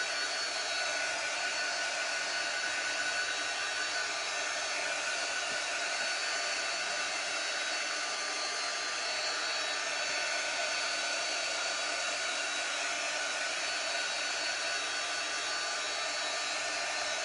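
A hair dryer blows steadily for the whole stretch, a continuous even whoosh drying a Dollar Tree beach-themed craft project, with no talk over it.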